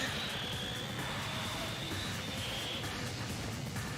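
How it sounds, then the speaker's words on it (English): A helicopter in the Danganronpa 2 video game, a steady, dense whirring roar with a thin high whine running through, continuous and fairly even without pauses. "That's a helicopter!"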